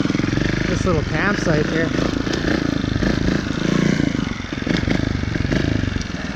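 2018 Beta Evo Factory 300 4T trials motorcycle putting and revving at close range while a rider talks over it, the engine note rising and falling with clattery chassis noise.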